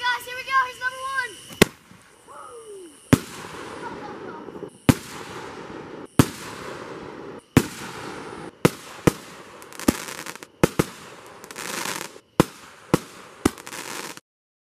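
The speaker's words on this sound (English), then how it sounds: "got these two fireworks here" Consumer fireworks set off one after another, giving about a dozen sharp, loud bangs spaced irregularly across the stretch, with crackling debris and chatter between blasts and people talking in the background.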